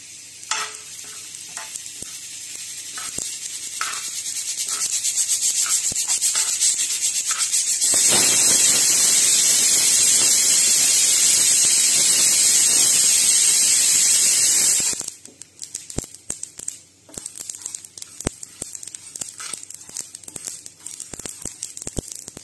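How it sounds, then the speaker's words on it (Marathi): Sesame seeds roasting in a pan, a steady dry rustling hiss that swells loudly for several seconds as the seeds are stirred, then falls back to quieter scattered scraping and ticks. "तीळ भाजून घेऊ"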